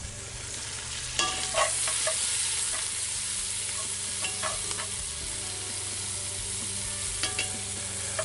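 Food seasoned with a low-MSG spice blend cooks gently in a Dutch oven, giving a steady soft sizzle with a low hum beneath and a few sharp clinks and stirring scrapes scattered throughout.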